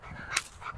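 A Rottweiler in decoy distraction training gives a faint, brief whimper with soft panting breaths, heard quietly over low background noise.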